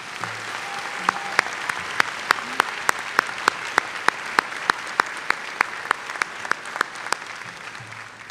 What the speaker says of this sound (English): How about one more round of applause for all of our recipients?